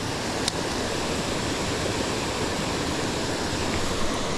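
Waterfall pouring over a dam, a steady loud rushing roar of falling water that fills the whole clip, close by and unbroken, with no voices.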